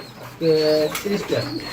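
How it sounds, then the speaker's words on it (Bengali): Lahori pigeons at a market pigeon stall give a few soft throaty coos, close by, with someone talking over and around them. "ওই যে দেখতে পাচ্ছেন লাহরি কবুতর দুইটা বেবি"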